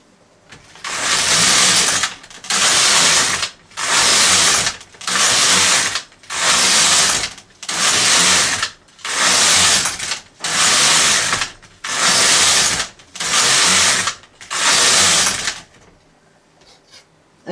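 A knitting machine carriage is pushed back and forth across the needle bed for twelve rows, making ten evenly spaced loud rasping sweeps of about a second each, close and steady, with no talking.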